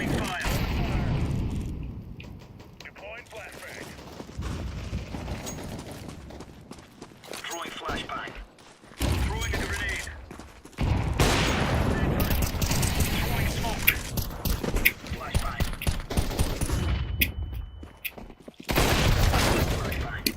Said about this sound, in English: Throwing fire. Deploying flashbang.